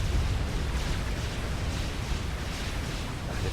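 Dense, rumbling explosions roll continuously through a large battle in the strategy game Supreme Commander, a loud wash of overlapping booms and crackling blasts with no clear gaps and no talk.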